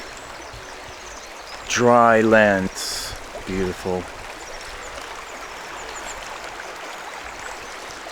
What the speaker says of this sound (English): This is so interesting to see so much water running through these